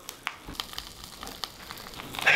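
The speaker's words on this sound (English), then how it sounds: "Do you hear the sizzle?" A hot coal sizzles in ice, a soft, steady hiss with scattered crackles and pops, fairly quiet and close, with no talking.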